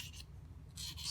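A metal hand file rasps against a 3D-printed ring, two quick close scraping strokes with a short pause between them, faint and without any talking.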